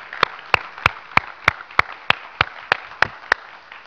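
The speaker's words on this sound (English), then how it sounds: "give him a hand clap of praise today" A church congregation claps in praise, sharp single claps landing in an even rhythm, about twelve in under four seconds, clear and fairly close with no talking.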